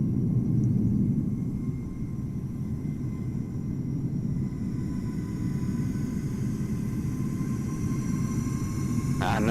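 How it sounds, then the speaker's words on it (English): An EasyJet airliner passing at Amsterdam Schiphol in Microsoft Flight Simulator: a loud, steady low engine rumble and roar holding for the whole stretch, with a faint high whine above it. "And the EasyJet is gonna pass, I think it's gonna pass this point."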